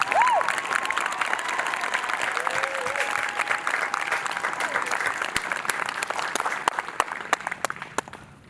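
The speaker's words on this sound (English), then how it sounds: "Let's give a round of applause for this exceptional class" Steady, full applause from a crowd at a senior graduation ceremony for the class of 2020, dense clapping holding strong throughout with a few faint cheers, tapering slightly at the end.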